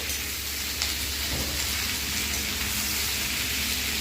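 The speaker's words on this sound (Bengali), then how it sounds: "আলু আর পেঁয়াজ ভাজছি" Constant sizzling and crackling of potatoes and onions frying in oil, steady and fairly loud with occasional small pops.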